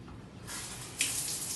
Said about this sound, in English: You're going to turn the water on